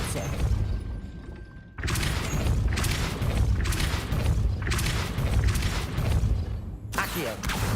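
The Depulso spell being cast in the video game Hogwarts Legacy produces a series of loud booming, crashing blasts with mechanical clatter that repeat in quick succession after a quieter opening.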